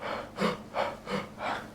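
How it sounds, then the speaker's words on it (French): Forceful cyclic breathing, with four strong rhythmic breaths in quick succession, inhaling more than exhaling with no pause between them, close and loud. "c'est une respiration cyclique où on inspire plus qu'on expire"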